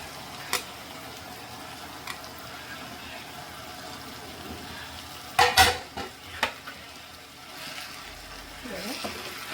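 Okra tipped into a pan of cooked tomato, followed by a burst of loud clattering and stirring scrapes, then a quieter sizzle with softer stirring; a voice murmurs briefly near the end.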